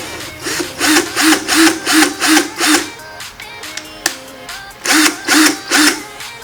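A handheld drill spins wire in reverse to undo a Clapton coil's twist, whirring in short repeated bursts close by, then a brief pause before a few more bursts.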